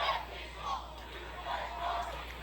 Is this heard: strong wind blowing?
no